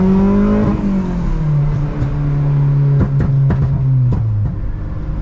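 A Honda car accelerating through a 20 roll, its engine note climbing and sagging with gear changes, ending in a few sharp pops and shifts, loud and close with no talk.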